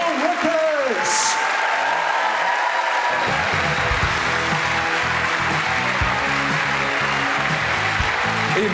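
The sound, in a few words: audience applause for a comedian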